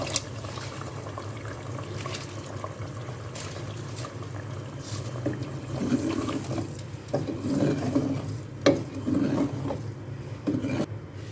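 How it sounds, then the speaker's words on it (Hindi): Half a glass of water poured into simmering kofta curry gravy in a cooking pot, a running splash and gurgle that grows louder midway with several sharp splashy bursts, heard alone without talk. "मैं आधा ग्लास पानी डाल रही हूँ इसमें।"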